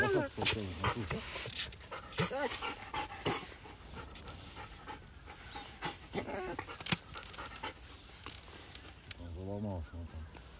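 A hunting dog in a goose-hunting blind pants in quick rhythmic breaths at close range, with occasional faint whines, while people talk nearby throughout.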